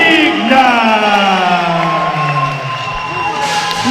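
A boxing crowd at York Hall cheers an announced undefeated winner, a loud, continuous wash of voices and whoops filling the hall, with a commentator's voice running through it.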